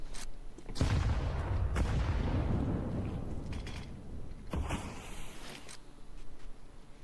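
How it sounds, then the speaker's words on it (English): Grenades flying and exploding in the CS:GO video game: two heavy booming blasts roll out into a sustained rumble, layered with crackling gunfire, loud and without speech. "Some nades flying over towards that B site"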